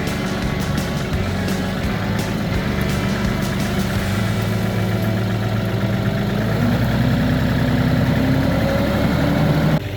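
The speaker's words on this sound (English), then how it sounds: "I'm gonna carefully drive over this hole, try to pack it down." A vehicle's engine rumbles and idles steadily at close range as it creeps back and forth over a sinkhole behind a front pond, packing down the soil, with no voices over the low, continuous drone.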